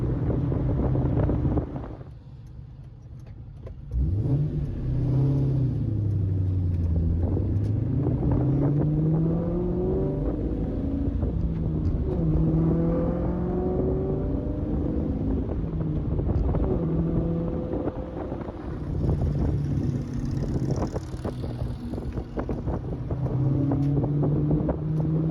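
A 2004 Ford Mustang Cobra, low on fuel, cruises slowly with a steady engine drone that rises and falls in pitch, under loud wind buffeting around a window-mounted camera.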